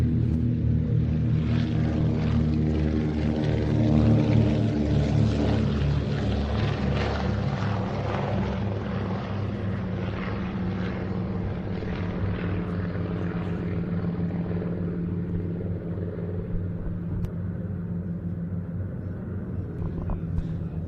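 Consolidated PBY-5A Catalina and Taylor monoplanes taking off at an airfield, a loud, steady propeller-engine drone with deep throbbing harmonics, sustained throughout and easing slightly toward the end.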